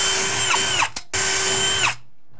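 A power drill whirs at close range in two short bursts, pre-drilling a steel door, with a brief pause between them and a winding-down whine at the end of each.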